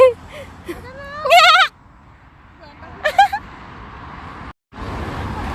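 Two quavering lamb bleats sound a couple of seconds apart, close by, over quiet background noise in outer London.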